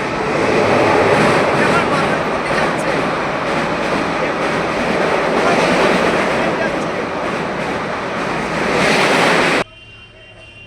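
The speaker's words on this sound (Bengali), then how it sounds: "ট্রেন আমার মাথার উপর দিয়ে গেল" A train crosses directly overhead near a flower garden at Khirai, Medinipur, a loud, continuous rumbling roar that holds for several seconds and then cuts off abruptly.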